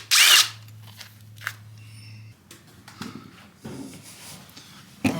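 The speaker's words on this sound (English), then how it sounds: "Let's take the screw out." A tool works a screw out of a Yamaha AT3 motorcycle engine's left-side crank cover, with a short loud burst at the start, a low steady hum, then scattered clicks, scrapes and metallic taps.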